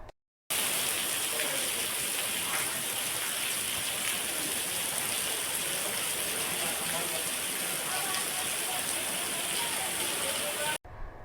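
Unseasonal rain falling steadily in Gujarat, an even dense hiss of drops on surfaces that holds constant for about ten seconds with no voices.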